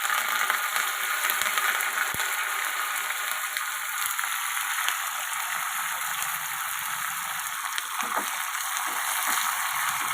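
Mustard seeds, cumin and dried red chillies sizzle and crackle steadily in hot oil for a tempering, a close, continuous frying hiss with no talking.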